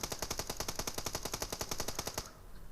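A fast rattle of automatic gunfire from PUBG Mobile on the Sanhok map runs as a rapid, even burst of about twenty shots, then cuts off abruptly into quiet.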